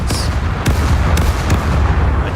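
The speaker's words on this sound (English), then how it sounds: "Causing all these explosions" Repeated loud booms and blasts from naval cannon fire and explosions in the pirate-era game Caribbean Legend, dense and continuous with sharp bursts over a rumbling low background.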